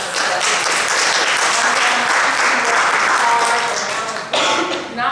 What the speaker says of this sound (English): So I want us to applaud